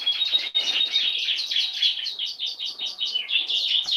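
A canary sings close by in quick, bright, repeated chirping and trilling phrases that run continuously with short gaps, with no voices over it.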